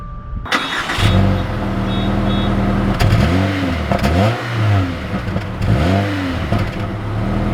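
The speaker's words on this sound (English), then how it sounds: "We are setting off here in the Impreza Sport hatchback" A 2020 Subaru Impreza Sport hatchback pulling away, its engine revving up and easing off through several gear changes, loud and close from inside the cabin with steady road noise beneath.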